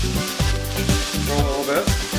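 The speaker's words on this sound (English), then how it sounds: "Get some garlic out of the pan. Okay, so let that saute for" Garlic sautés in a pan for salted cod fish, a close, steady frying sizzle with rhythmic stirring pulses and no clear talking.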